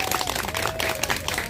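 A street crowd claps for former party leader Song Young-gil at an outdoor talk event near the Seoul Central District Prosecutors' Office, a dense steady patter of hands throughout the brief moment, with faint voices mixed in.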